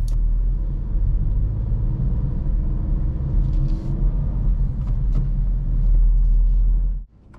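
A car engine rumbles low and steady as it is given more gas while the clutch is raised, swelling slightly near the end before cutting off abruptly.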